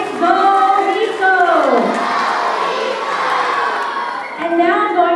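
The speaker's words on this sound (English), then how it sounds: "Can I hear a big go Hizo?" Crowd of children at a school assembly cheering and shouting together, a loud, sustained roar of young voices that swells in repeated bursts of group yelling.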